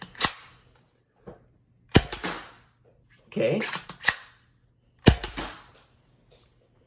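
A toy foam dart blaster fires Dart Zone Pro darts in four or five sharp, snappy pops spaced a second or so apart, close and crisp, with a brief spoken word between shots.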